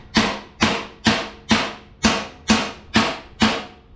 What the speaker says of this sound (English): I grab myself 5 kilo hammer, try to straight out the